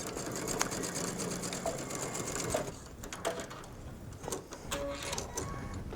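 A sewing machine runs in quick bursts, stitching forward and back a few times to secure an elastic hem on mesh sleeves, a close, rapid mechanical whir with short pauses between runs.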